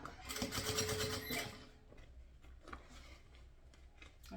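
A sewing machine runs a short, steady straight stitch attaching a zipper to a synthetic-material bag, a close mechanical whir for about a second and a half, then faint scattered handling taps.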